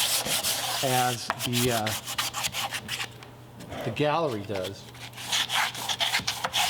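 Rhythmic, close back-and-forth rasping of sanding wood trim painted with Sherwin-Williams Emerald Urethane, in quick strokes, with a voice talking briefly over it partway through.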